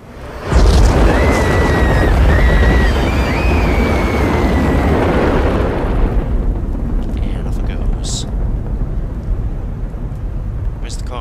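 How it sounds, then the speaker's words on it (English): In the video game Little Inferno, a toy rocket ship burns and explodes in a loud, sustained roaring blast with thin whistling tones, then settles into a lower rumbling crackle with a few sharp pops. "let's burn this toy rocket ship for the lulz"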